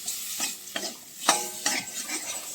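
A spoon stirs a turmeric spice mix frying in a pan, giving soft, irregular scrapes and taps over a light sizzle, close up with no voices.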